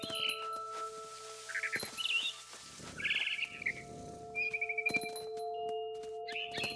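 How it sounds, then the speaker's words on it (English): Barn swallow chirping in the game What Remains of Edith Finch, a few bright, brief chirp bursts scattered over a quiet ambient backdrop with faint hoof-like clops, no talk. "Then I heard chirping outside my window. It was a barn swallow going back to her nest."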